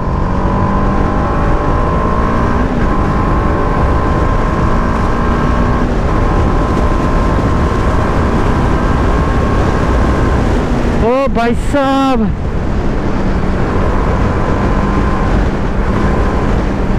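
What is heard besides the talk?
TVS Apache RR 310 BS6 motorcycle engine riding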